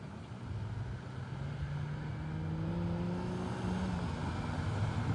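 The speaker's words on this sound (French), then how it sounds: "Allez, un coup de drift." A car drifting at a car-culture meet is heard as a steady engine drone that swells and rises in pitch as it revs, fairly distant and without voices.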